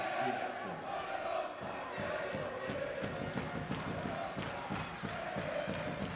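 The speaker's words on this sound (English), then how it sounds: "the crowd are in good voice now, trying to lift their side" Spectators at a women's handball match, Hungary against Denmark, cheer and chant loudly in a continuous roar, with rhythmic clapping or stamping and a commentator's voice over it.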